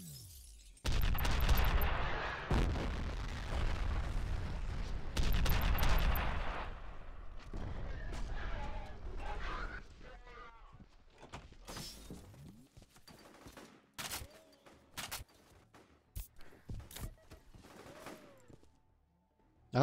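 Rocket launcher fire and blasts in the shooter video game F.E.A.R.: loud booming explosions and gunfire bursts early on, then scattered sharp impacts, debris and smaller shots thinning out toward the end.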